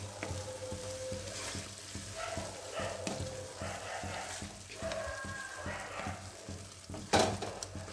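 Pav bhaji mixture frying in a pan is stirred continuously, a close, steady sizzle with rhythmic scraping strokes of a spatula and a sharper clatter near the end.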